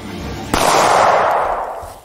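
A single sharp gunshot cracks close and loud as a bullet is fired through a stack of calendars, followed by a bright ringing decay that fades over about a second and a half.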